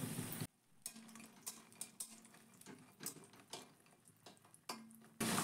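Lentil bori frying in hot mustard oil in a wok: a close, moderate sizzle with scattered clinks and scrapes of stirring, broken by brief near-silent gaps.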